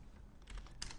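Rapid keystrokes on a computer keyboard while setting up a camera-shake effect in editing software, a quick run of close, crisp clicks with no talk.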